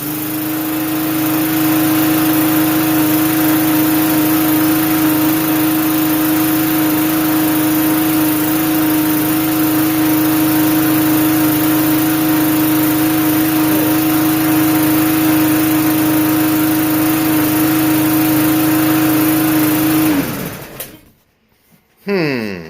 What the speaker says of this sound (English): that mower's still running a little rough